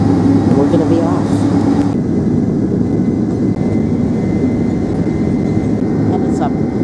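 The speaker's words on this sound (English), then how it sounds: "And it's up and away on the first leg to Newark Airport." Loud, steady roar of a United Airlines Boeing 767-300's engines inside the cabin during takeoff from the runway, a constant heavy rumble filling the whole stretch, with a voice talking over it early on.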